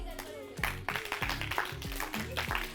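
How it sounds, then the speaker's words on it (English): A small group claps in uneven bursts for a participant during a stress-relief exercise session, fairly close, with a few separate claps and some voiced sounds mixed in. "Can we clap for her?"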